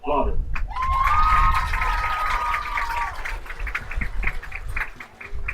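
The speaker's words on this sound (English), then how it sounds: "One more round of applause for the seniors of the Dazzler team." A stadium crowd applauds and cheers for the senior Dazzler dance team members at a Smithville Warriors high school football game, steady and loud, with a sustained whistle and an announcer talking over it.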